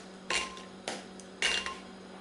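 Chocolate tipped into a bowl in a home kitchen while baking: three separate clattering clunks of pieces landing against the bowl, close and fairly loud, with no talking.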